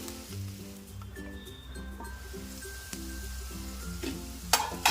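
Cut cauliflower frying in oil in a pan, a moderate sizzle with regular stirring scrapes and a couple of sharp clinks near the end, no talking.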